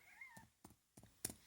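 A cat gives a short, faint meow at the start, followed by several soft knocks and thumps spaced apart, with no talking.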